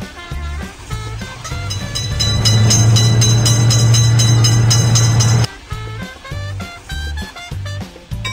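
A cartoon train passes a railway crossing in a kids' game, its rumble swelling and holding a few seconds before stopping sharply, with plinking game music before and after.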